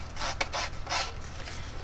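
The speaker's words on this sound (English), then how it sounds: "I'm just distressing the edges of my pieces and crumpling them up" Paper pieces for scrapbooking are rubbed and crumpled to distress their edges, giving a few close, scratchy rasping bursts over a low steady hum.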